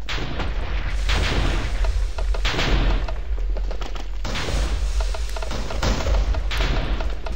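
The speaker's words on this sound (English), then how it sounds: "It's just massive loads of explosions." Continuous loud rumbling TNT explosions and booming blasts in Minecraft, overlapping heavily with deep low thuds throughout.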